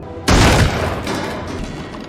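A pistol shot to the leg in a biker-gang film scene lands as a single sudden, loud blast that quickly settles into a lingering, reverberant rumble.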